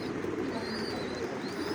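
Pigeons cooing at a loft in the rain during vaccination day, soft repeated low coos under a steady wash of rainfall, fairly faint and continuous with no talking.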